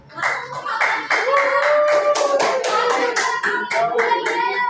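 A group of students claps in bursts, loud and close, with children's voices and shouts mixed into the rhythmic hand claps through the whole stretch.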